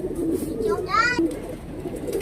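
Kaldume pigeons coo in short rolling bursts close by while someone talks over them.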